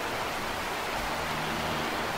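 Steady rushing of flowing water in the video game Shadows Awakening, a continuous, even hiss of moderate loudness that holds unbroken from start to finish with no voices over it.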